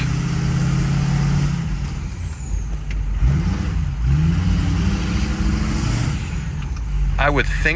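Ford 6.0 diesel truck, suffering a loss of power, accelerating at full throttle with a steady loud engine drone heard from inside the cab, while people talk over it.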